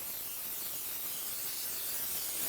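A can of Pam cooking spray hisses steadily at a kitchen sink, one continuous close, airy spray lasting a couple of seconds with no talking.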